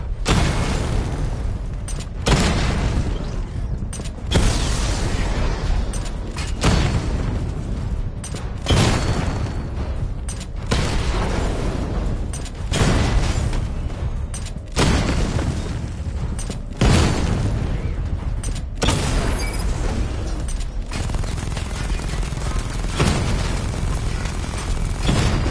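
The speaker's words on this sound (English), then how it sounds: "Charge the missile barrage to level 2 to destroy up to 4 targets at once." Missile barrage explosions in Batman Arkham Knight, a steady run of loud, deep booms about every two seconds over a dense, continuous roar of rumbling combat noise, with no voices.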